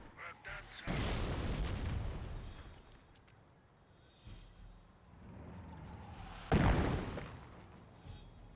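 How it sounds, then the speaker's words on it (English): Heavy high-explosive artillery shells land during a Company of Heroes 1 battle between Panzer Elite and British forces, two big broadband booms about six seconds apart with lighter rumbling impacts between, with a voice talking over them. "Because it's just a high standard high explosive barrage there."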